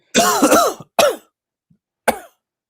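Three harsh coughs close by, a long raspy one followed by two shorter bursts with brief silences between.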